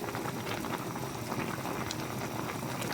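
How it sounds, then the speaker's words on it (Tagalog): Paksiw tilapia broth with vegetables at a rolling boil in a pot, heard up close as dense, continuous bubbling and popping that stays even throughout. "Bukulo pa lang siya."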